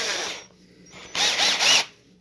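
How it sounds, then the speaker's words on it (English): Cordless drill biting into the rivets of a Hot Wheels die-cast car, two or three short close whirring bursts with gaps of near silence between them. "load it into your preferred screwdriver or drill in your most normal fashion, and then you go right at these rivets"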